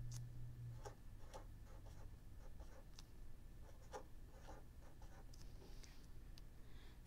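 Pencil on paper as a name is written at the top of a worksheet: short, quiet scratching strokes with small ticking taps, irregular and close, in an otherwise still room.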